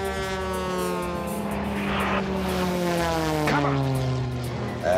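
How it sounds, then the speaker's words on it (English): An aerobatic propeller airplane flies a hammerhead at an airshow, its engine a loud, sustained buzzing drone whose pitch slowly slides downward as it pivots and dives. "The hammerhead is going vertical till it stops, pivoting the airplane 180 degrees and going straight down."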